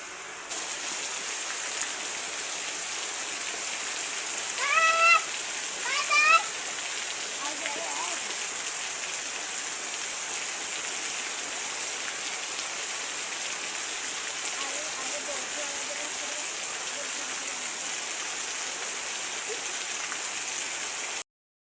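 Steady, dense hiss of rain falling outside a house, continuous and fairly close throughout, with a few brief chirps or squeaks early on and faint voices in the background.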